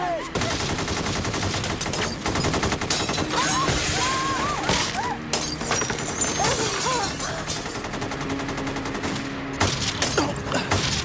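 Heavy police gunfire crackles continuously, a dense barrage of hundreds of rapid shots with sharp cracks and scattered whistling sounds, loud and sustained throughout.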